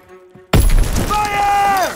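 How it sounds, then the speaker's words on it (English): A sudden, loud grenade blast in Call of Duty WW2 on PS4, a sharp booming hit followed by a rumbling, debris-filled tail, with tonal game sounds and shouted voices carrying on underneath. "Throw the grenade!"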